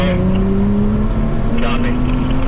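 BMW M2 engine accelerating on the Florida International Rally & Motorsport Park race track, a loud steady drone with pitch climbing gradually throughout, heard from inside the car.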